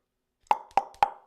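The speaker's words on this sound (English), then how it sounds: "That's the sound of my bicep." A hand slaps a flexed bicep three times in quick, evenly spaced succession, each a sharp, close, hollow smack in an otherwise quiet room.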